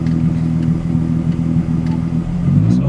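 A nitrous-equipped Nissan 350Z engine runs steadily while driving, a continuous low rumble with a fluctuating drone that swells slightly toward the end, close and fairly loud throughout.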